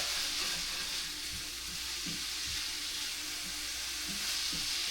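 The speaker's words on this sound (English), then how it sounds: "You just want to stir it up, mix it up until everything is nicely combined." Frozen vegetables and jerk salmon fried rice sizzle steadily in a pan as they are stirred, with soft scraping and clacking from the utensil over a constant frying hiss.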